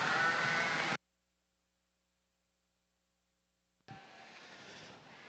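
Sheep bleat during a ewe lamb class at the Ohio State Fair open jackpot ewe show, with a steady hum of crowd and barn noise. The sound stops abruptly, falls silent for several seconds, then resumes more quietly.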